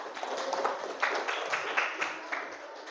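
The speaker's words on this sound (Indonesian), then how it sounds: "tepuk tangan untuk Mbak Lili" Classroom applause for a student, many hands clapping in a steady broadband patter that carries on through the whole stretch, filling the room at moderate loudness.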